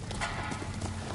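Horse hooves clip-clopping at a hurried pace in the video game Ghost of Tsushima, a brief, close run of dull thuds over a dense game soundscape just before the rider dismounts.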